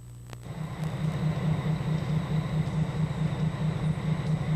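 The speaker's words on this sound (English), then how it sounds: "it makes a run for another set of cars to be switched" A switching locomotive of the Indiana Harbor Belt Railroad rumbles past, with a steady throbbing diesel drone and rhythmic low chugging, moderately loud and continuous, with no voices.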